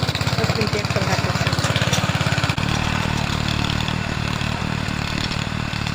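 A small farm engine, started by pulling its cord, chugs steadily up close with a loud, rapid rhythmic putter, then settles into a rougher, denser running drone.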